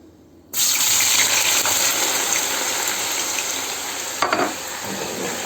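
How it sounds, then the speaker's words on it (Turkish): Loud, steady sizzling of diced potato cubes dropped into hot oil, starting abruptly and continuing as a dense crackling hiss, with a brief clatter partway through. "Şimdi onlar kızara dursun."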